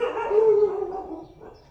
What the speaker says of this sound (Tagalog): Hindi ko alam kung sino tinatawagan ng aso.